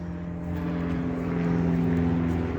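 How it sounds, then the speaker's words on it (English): A small propeller plane drones steadily overhead during heavy snowfall at a cold cabin, a continuous low engine hum that grows slightly louder and holds at a moderate distance, with no talking. "got a little plane flying over."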